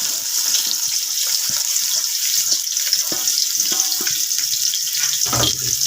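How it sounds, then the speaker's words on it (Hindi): Finely chopped onion frying in ghee in an open pot, giving a loud, steady hiss and sizzle with small crackles and a brief clatter near the end, without speech. "ये देखें, ये फ्राई हो रहा है घी में।"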